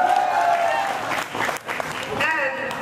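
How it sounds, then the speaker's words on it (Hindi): Students at a school programme applaud, a dense, loud clapping that briefly dips midway, with voices shouting and talking over it. "और जोर से यार अपने लिए तो तालियां बजा दो तुम लोग"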